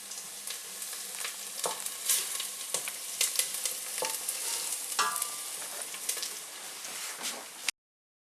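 Spinach cooking ngai ngai style in a pot, a continuous crackling sizzle with repeated sharp pops and scraping stirs throughout, fairly close and alone without talk.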